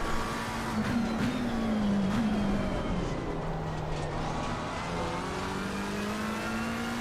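A racing car engine in the game Assetto Corsa Competizione holds high, steady revs with a sustained droning whine that shifts slightly in pitch, loud and continuous without any talking.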